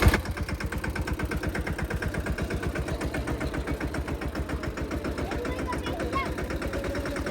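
A farm tractor engine runs steadily on a field, a close, rhythmic mid-pitched chugging that pulses evenly throughout.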